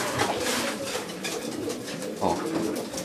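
Racing pigeons coo softly and continuously at a loft during a race arrival, with steady layered calls over faint background noise.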